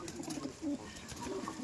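Rajasthani Giribaj pigeons give soft, low cooing under steady background noise, faint and close.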